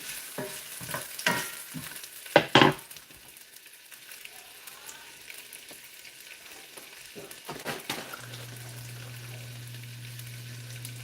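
Carrots frying in a pot as the base for a turkey pot pie, a soft crackle and sizzle with scrapes of stirring and a few sharp utensil clanks near the start, moderately quiet and close.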